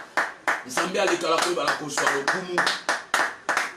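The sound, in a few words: congregation applauding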